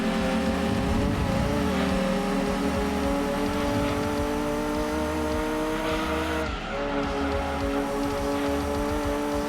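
A turbocharged race car engine in Gran Turismo 2 on PS1 roars steadily and loudly with sustained high revs and a brief dip mid-way, tones typical of a boosted engine, with no talking.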